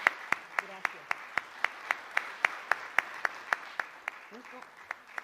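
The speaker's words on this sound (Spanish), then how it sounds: "sí merece un aplauso muy fuerte" Applause for Dr. Ángel Díaz Barriga at a teachers' event settles into steady, evenly spaced rhythmic clapping, crisp beats about four per second, with faint voices murmuring beneath.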